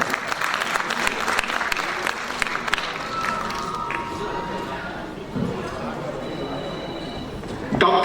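An audience at a Hindi literary award ceremony applauds an honoree, the clapping steady and dense, with crowd chatter and voices mixed in.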